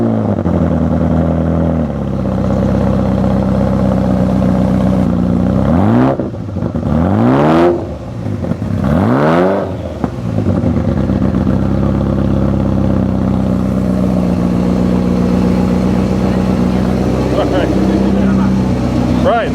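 A Ferrari F40 engine with a wide-open LM exhaust revs hard several times, rising and falling in loud roaring sweeps over a steady rumbling idle, with someone talking.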